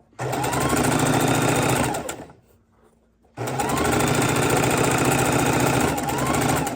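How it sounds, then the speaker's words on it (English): A sewing machine stitches quilt nine-patch blocks in two fast, steady bursts, loud and close, with a short quiet pause between them. "when they come up on the sewing machine"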